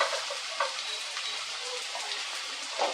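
Onion with peeled garlic frying in oil in a pan for a village-style fish curry, a steady crackling sizzle with occasional louder spits and stirring scrapes, close and continuous.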